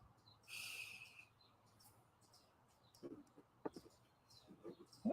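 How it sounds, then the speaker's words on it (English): Birds singing outside open windows: faint, scattered chirps and short calls against a quiet room background, with no talking. "These birds are really loud here."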